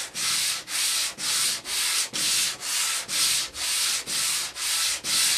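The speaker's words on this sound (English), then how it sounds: "a little bit of light sanding with fine grain sandpaper on both sides" Steady, even strokes of fine sandpaper lightly rubbing across a tube radio's wooden cabinet, about two per second in a regular back-and-forth rhythm, close and fairly quiet.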